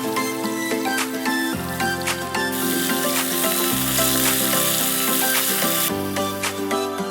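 Finely chopped onions with salt sizzle steadily in hot oil in a pan for pulao, a dense, continuous frying hiss with a low steady hum beneath it.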